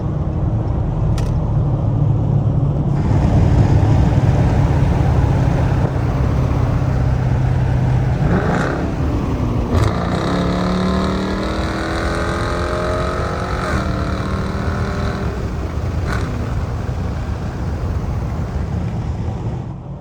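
Chrysler 300 sedan engine revving hard and accelerating on a late-night drive near a wall, a loud sustained roar with rising pitch sweeps, heard from inside the car with no talking.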